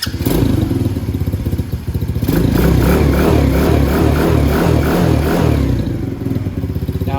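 A 125cc Venom ATV engine cranks and catches, then settles into a steady, loud, close idle with a rhythmic low chug and some mechanical clatter, dipping briefly near the end.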